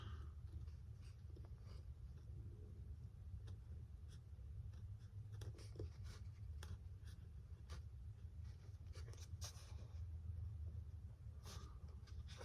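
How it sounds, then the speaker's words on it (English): A blade cuts the foam wing of a Freewing Yak-130 model jet, giving faint, close scratchy scrapes and small ticks over a low, steady background rumble, with no talking. "I'm gonna be making a 45-degree cut back the other way on both sides"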